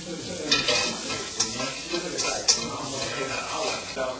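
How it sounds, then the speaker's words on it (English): Vegetables warming in melted herb butter in a pan on low heat, soft sizzling with a few sharp utensil scrapes and taps against the pan at irregular intervals. "Gonna just melt that butter and just warm those veggies up"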